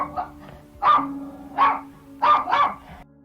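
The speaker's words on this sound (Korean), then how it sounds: "마당에 개들이 짖기" Several dogs bark in a yard of a residential house in a Yangju neighbourhood: four loud, fairly close bursts of barking a few tenths of a second apart, with quieter yips between them.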